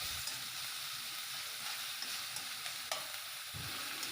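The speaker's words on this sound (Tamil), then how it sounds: "இப்போ நல்லா வதக்கிக்கோங்க." Tomato and masala with salt sautéing in a pan for a yam fry, a steady soft sizzle with occasional stirring scrapes and one small clink, quiet and continuous with no voices.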